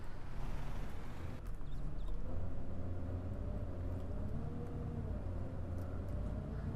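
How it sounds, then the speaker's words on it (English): Eco Life city bus in the OMSI 2 simulator, driving on the Cotterell map: a steady, loud low engine drone and road rumble continuing without a break, with some faint mechanical rattle on top. "I do think this is pretty much what the bus sounds like."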